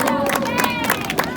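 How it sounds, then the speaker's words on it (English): Audience applause and crowd noise at a Six Flags Fright Fest stunt show, a steady wash of clapping and voices throughout, fairly loud and close, with a few sharper claps standing out. "One more big round of applause"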